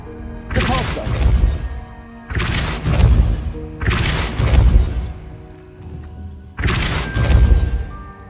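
Four separate Depulso spell casts from Hogwarts Legacy land as heavy booming blasts, each a sharp impact followed by a rumbling decay, spaced a couple of seconds apart against quiet game ambience.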